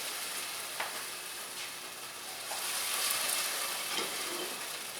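Balsamic vinegar sizzling and frying in a hot pan while cooking a caprese omelette, a steady bright hiss with a few small pops and crackles, close and continuous throughout.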